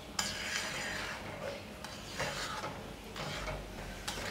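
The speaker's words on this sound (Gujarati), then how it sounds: "બરાબર મિક્સ કરી લેવાનું।" A spoon stirring sugar into rava and milk in a pan for rava shiro, repeated close scraping and clinking against the metal in an uneven rhythm, no talk.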